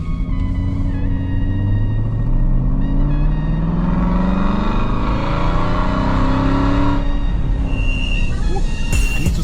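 Aston Martin engine on a test drive, a loud, close, rising rumble as revs climb through gears, with a voice faintly mixed in.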